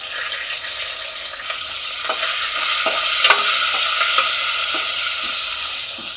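Green chillies sizzling steadily in a pan while being stirred, with a constant bright frying hiss and scattered soft scraping knocks from the spoon throughout; no talking.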